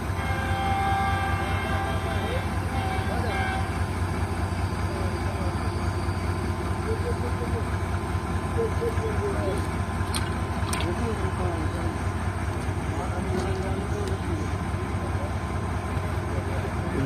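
A Pakistan Railways train led by a GU40 locomotive arrives at Ahmadpur East station with a constant low rumble and rolling clatter, someone talking over it and faint whistle-like tones in the background.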